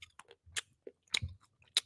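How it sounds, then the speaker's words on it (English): Someone chews hazelnut chocolate squares close to the mic, with soft crunchy bites and mouth clicks in irregular bursts and no talking. "I'm eating some hazelnut chocolate squares."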